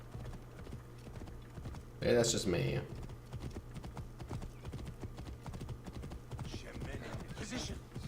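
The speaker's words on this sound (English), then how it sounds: "I feel like this horse takes longer to pick up speed." Horse hooves gallop in Assassin's Creed Origins: a steady, rapid clip-clop that runs throughout at moderate distance, with a short burst of other game sound and someone talking quietly over it.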